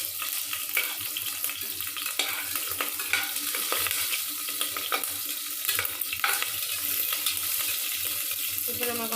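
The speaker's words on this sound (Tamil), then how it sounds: "கரண்டி எடுத்து நம்ம வதக்கிடுவோம், இல்லைன்னா மேலே தெரிக்கும்." Green chillies sautéing in hot oil give a dense, loud, continuous crackling sizzle, with a ladle scraping and stirring through them at close range.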